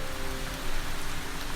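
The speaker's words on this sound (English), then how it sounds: "It was another rainy day." Steady rain falls on a surface in an old city block, a dense, even hiss of drops with no voices, close and continuous throughout.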